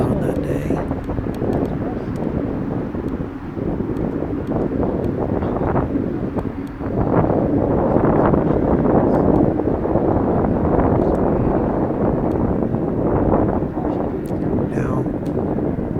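Strong wind buffets the microphone during a Tour of Forest Park bike ride, a steady loud rumbling roar that swells around the middle and continues throughout with no break.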